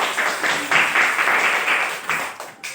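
A classroom of students claps together in a brief burst of applause that fades slightly near the end.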